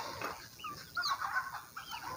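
Chickens cluck softly in scattered, overlapping calls on a free-range desi poultry farm, fairly faint and close, with no talking.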